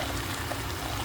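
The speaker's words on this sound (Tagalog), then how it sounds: "tomato sauce" Tomato sauce pours into a pot of menudo, a brief, close, steady liquid rush lasting about a second.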